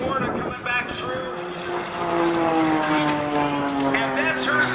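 An aerobatic airplane at an airshow drones past with a loud, steady propeller-engine roar whose pitch slides downward as it passes, while an announcer talks over it amid wind noise.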